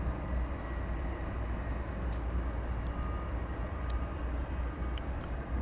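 A Martinaire cargo airplane at DFW Airport at night, heard as a steady, distant low engine rumble with a faint whine, continuous and without talk.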